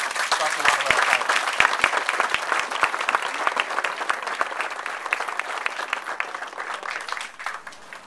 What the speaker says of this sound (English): Would you please give a round of applause for the next speaker